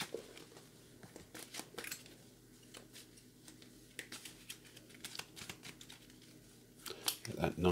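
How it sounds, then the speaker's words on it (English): Playing cards of a board game's formation deck are shuffled in quick papery riffles and taps, close and fairly quiet, with a burst of louder shuffling near the end. "We will shuffle the formation deck."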